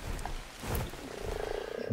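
Frog croaking in the survival game Ark Survival Evolved, a steady rapid croaking drone that swells and fades against a busy game background, with no talking over it.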